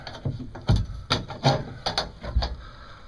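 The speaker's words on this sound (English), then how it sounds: "So now the trick is just get the clamp back on there" A clamp being worked back onto a ranch camper shell with Windoors, a series of close, irregular clicking and clunking knocks of metal and hard plastic, roughly every half second.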